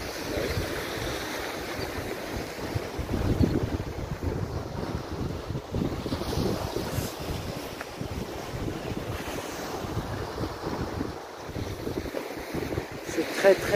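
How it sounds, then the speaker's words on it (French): Steady, blustery wind roaring over the Balearic Sea, with waves and surf washing underneath throughout; loud and continuous, no clear voices. "Ah, bah c'est le vent, hein."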